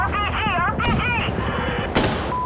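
RPG fire and gunfire in Insurgency: Sandstorm, a PVP shooter, with a sharp blast near the end over continuous gunfire and shouted voices throughout.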